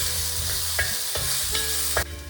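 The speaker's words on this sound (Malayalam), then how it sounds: "നാളികേരം കൂടെ ഇട്ടിട്ട് ആ നെയ്യിലേക്ക് ഇടന്ന് വഴന്ന് വരട്ടെ" Grated coconut frying in ghee in a pan, a steady close sizzle with a few soft stirring scrapes at intervals, and no voices.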